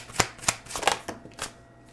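Tarot cards shuffled by hand for one more draw, five or six quick riffling bursts at a steady pace, close and fairly soft, with no talking.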